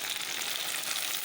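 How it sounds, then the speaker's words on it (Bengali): Chopped tomato frying in hot oil with browned onion gives a soft, steady sizzle, even and unbroken throughout with no talking. "টমেটোটা একটু নরম হয়ে যাবে, তেলের সাথে পেঁয়াজের সাথে একটু ফ্রাই করে নেব"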